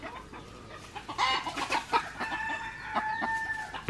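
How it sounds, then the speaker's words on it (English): Several roosters on Moorea, French Polynesia, crow and cluck in bursts while fighting over a hen, some close and some farther off, with overlapping calls over a quiet outdoor background. "they're all chasing the chicken around and crowing and fighting over this chicken"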